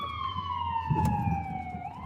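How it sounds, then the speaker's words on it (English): An ambulance siren wails through a steady falling tone, heard at moderate distance over road rumble inside a truck, with faint background noise and no clear talk. "ambulance."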